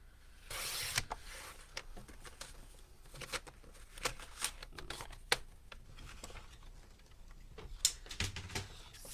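Cardstock being cut for a card base in a paper-crafting session, with scattered crisp ticks, slides and sharp snaps of paper and trimmer, irregular and close, and no talking.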